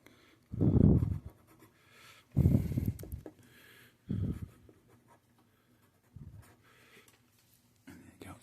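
Pen scratching out a signature on paper in close, quiet bursts of writing, several separate strokes spread over the stretch with brief pauses between them.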